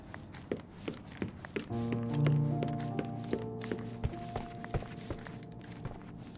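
Footsteps thud upstairs in the Sherlock Holmes Chapter One video game, a steady series of soft, muffled steps heard at a distance, with a low sustained musical drone underneath.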